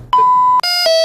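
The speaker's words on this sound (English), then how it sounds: "when the constant beeps of alerts turn into white noise for the medical staff" A hospital alarm sounds loud and close: one sustained electronic tone, then a brief break and a brighter two-step chiming tone, all within about a second.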